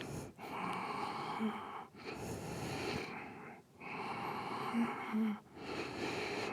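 Ujjayi breathing done with the tongue pressed against the hard palate, slow, loud, close hissing breaths in long rasping waves separated by short pauses, with no talking.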